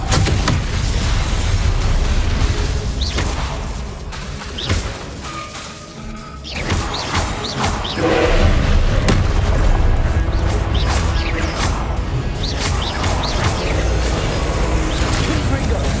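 Repeated booming fire blasts of the Confringo spell in Hogwarts Legacy, thudding crashes and pops one after another over dense game music and effects, loud and continuous.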